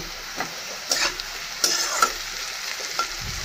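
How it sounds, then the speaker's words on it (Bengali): Leftover cooked rice is stir-fried in a pan, with a soft continuous sizzle broken by repeated sharp scraping stirs of a spatula at an uneven pace, close by, with no talking. "অনেক দিন পর আজকে ভাত ভাজা করছি বন্ধুরা"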